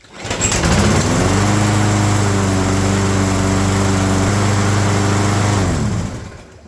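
A Craftsman Platinum lawn mower is pull-started by ripcord and its engine catches at once, running loud and steady at close range for about five seconds before dying away.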